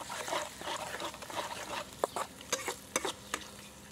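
Chopped ginger, garlic and green chillies fry in oil for village-style vegetable fried rice, a soft crackling sizzle with a few sharp spatula scrapes and taps toward the end.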